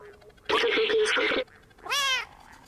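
A video-game cat meows loudly after a hard fall: a long, strained, rough yowl followed by a shorter rising meow, both close and clear over low background sound.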